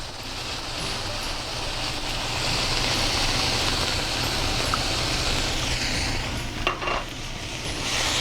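Hatch green chilies and mixed vegetables frying in a pan, a loud continuous sizzle with stirring scrapes, steady throughout with a few brief clinks near the end.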